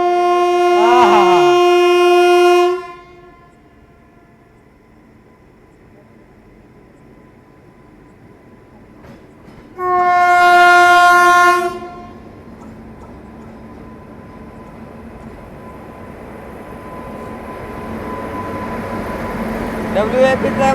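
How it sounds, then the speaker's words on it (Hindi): An Indian express train hauled by a WAP7 electric locomotive overtakes on an adjacent track and sounds two loud, sustained horn blasts several seconds apart, followed by a rising rumble of the passing train. "ये 5वां ओवरटेक पर देखना है कौन सी ट्रेन है भाई। इसका हॉर्न सुनिए ना"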